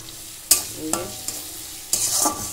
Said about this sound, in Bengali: মশলাটা কষা হচ্ছে।